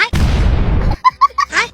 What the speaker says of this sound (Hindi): खरगोश तोते को एक पटाखा पकड़ा देता है